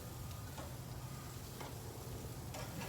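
Chicken and salmon sizzle on a grill as they are seared, a steady close crackling hiss that runs the whole time with a low rumble underneath and a few faint clicks.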